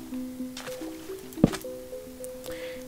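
A boat gliding through water in Minecraft, soft squishy splashes with one sharp wet slap midway, set against steady tonal background music.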